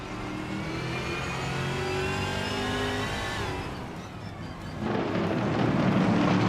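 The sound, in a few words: racing cars accelerating off the start line in a video game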